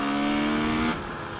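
A KTM 300 TPI two-stroke enduro motorcycle, 2020, revs loud and close with a steady high-pitched engine whine, then drops off abruptly to a lower idle near the end.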